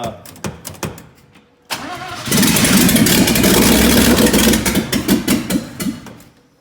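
An engine cranks with a few sharp bursts, then catches and runs loud and rough without its exhaust fitted, roaring steadily before settling into uneven pulsing revs.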